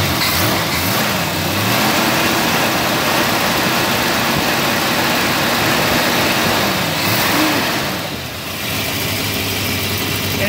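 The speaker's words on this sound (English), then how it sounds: "Engine with just a little bit of an ignition miss right there." A 1969 Dodge Coronet R/T engine idles steadily with a slight ignition miss, its continuous nearby rumble carrying an uneven pulse and a small rise in revs near the end, with no talking.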